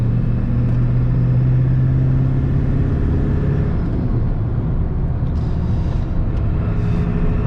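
A 1996 Ford F-350 with a 7.3 diesel, tuner and rebuilt turbo cruises down the road, its engine a loud, steady rumble and whir from inside the cab without any break.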